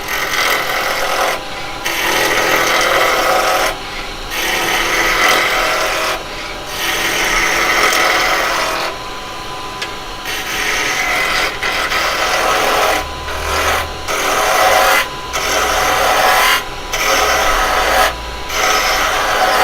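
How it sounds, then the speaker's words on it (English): Rhythmic rasping scrape of a 9mm round carbide tool knocking the corners off a wooden blank spinning on a woodturning lathe, loud passes broken by short pauses, with the motor hum underneath. "I'll probably start with the 9mm round at first, just to take the corners off."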